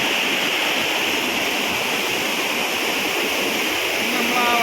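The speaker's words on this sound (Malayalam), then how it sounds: "ആ വെള്ളച്ചാട്ടത്തിൻ്റെ ഒരു ഭാഗമാണ്" Njandirukki Waterfall at Velliyamattom pours in a constant, loud roar of rushing water, a dense unbroken wash heard up close in the non-monsoon season.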